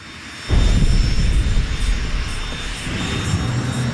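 A jet engine for a model jet car runs with a loud, steady roar that kicks in abruptly after a quiet start and holds broadband and continuous.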